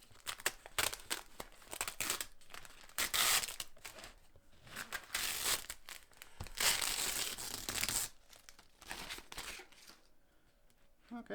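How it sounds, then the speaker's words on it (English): Masking tape peels off laser-cut acrylic with close, quiet crinkling, tearing and crackling rustles that come in uneven bursts before fading near the end. "Right, let's take the tape off."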